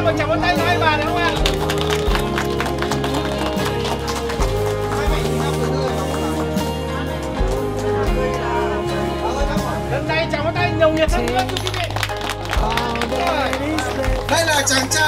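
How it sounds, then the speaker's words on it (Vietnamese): Guests at a Vietnamese wedding clap steadily for the two mothers of the couple, a dense patter of applause running throughout, mixed under loud, continuous wedding music with a strong bass line. "một chào vỗ tay cho hai bà được không ạ?"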